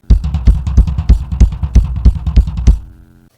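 A rapid crossover drum fill, around sixteen evenly spaced strokes played fast and loud, ending on a ringing, sustained tone.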